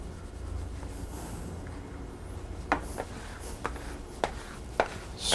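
A plastic glue spreader scrapes brioche dough from a bowl, giving soft, faint rubbing strokes with a few sharper scrapes and taps near the end, close by and with no talk.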